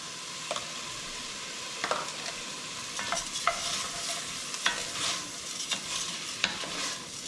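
Dried peas toast in oil in a pot for French Canadian pea soup, with a soft, steady sizzle and the occasional scrape or tap of a spoon stirring, close and alone.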